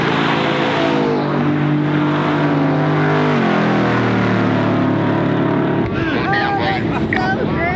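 Ford Raptor R trucks with a supercharged V8 launch off the line together, a loud, sustained engine roar that rises in pitch through the gears, with a second engine note joining near the end.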